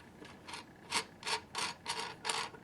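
Lid of an acrylic gumball machine globe being released, giving a quick series of five or six close, crisp plastic clicks and ratcheting scrapes in an uneven rhythm, with no talking.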